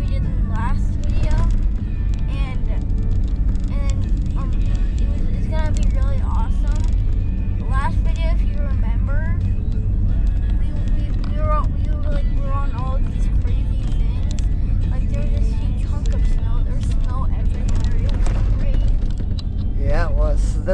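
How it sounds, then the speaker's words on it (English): An ATV quad engine runs steadily throughout a ride in the Mineral Mountains near Beaver, Utah, with a camera mounted on the quad, giving a loud, constant drone with wind buffeting. "We're gonna do some ATV riding, which we're gonna put the camera on the quad"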